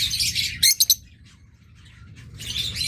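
Pet birds sold as a pair, a lutino opaline and a lutino with red eyes, chirp and squawk close by in bursts at the start and end, with a quieter stretch and a few sharp clicks between them.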